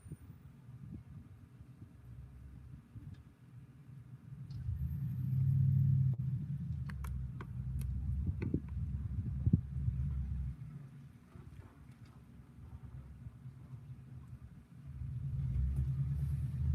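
Trucks rolling past a porch, a low rumbling engine drone swelling and fading in waves at moderate distance, with faint clicks and outdoor ambience between passes.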